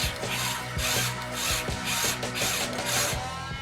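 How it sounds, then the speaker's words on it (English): A small countersink chamfering a hole in a metal valve guide press tool for a Harley Twin Cam, making a close, rhythmic grinding and chattering, with regular pulses about every half second and no voices. "we've just chamfered this hole just a little bit just to take the sharp edge off it"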